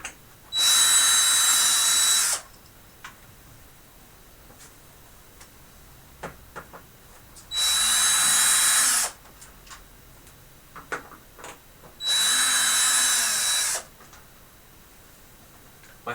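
A power driver backs short screws out of a TV in three bursts of steady high whir, each about two seconds long, with quiet gaps between them holding small clicks and ticks.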